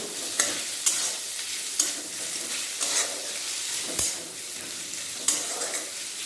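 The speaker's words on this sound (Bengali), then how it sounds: "পেঁয়াজের মধ্যে লবণ দিয়ে দেবো পেঁয়াজটা ভালোভাবে ভেজে নেব" Salted onions fry in a pan while a spatula stirs them. Bright, steady sizzling runs throughout, broken by regular sharp scraping clicks from the stirring, close and fairly loud, with no voices.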